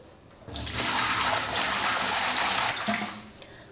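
Water pours out of a clay pot in a steady gushing stream for a couple of seconds, then tapers off to a trickle; close and fairly loud.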